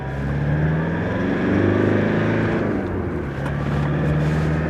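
A four-wheel-drive vehicle crawls along in fourth low, its engine droning in a steady, loud, harmonic rumble with slight rises and dips in pitch, no voices.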